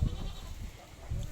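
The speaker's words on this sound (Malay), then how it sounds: "Ni dekat kawasan kandang kambing." Goats bleat near a goat pen at an orchard at dusk, two low, short calls at the start and end of a brief, quiet stretch, with no talking.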